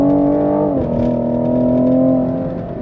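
A 2020 Cadillac CT5-V launching from a stop toward 60 mph with tire spin, its engine note holding a strong steady drone, dipping briefly as it shifts, then pulling on before easing off near the end.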